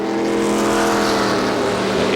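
Race cars roar past at speed on the Lime Rock track during a 2009 stock car race, a dense, continuous engine drone with overlapping cars, loud and close throughout.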